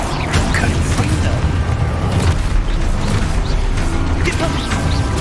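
In Hogwarts Legacy, a Confringo blasting spell sets off booming explosions that burst repeatedly amid rumbling, clattering game effects, with a voice shouting over the din.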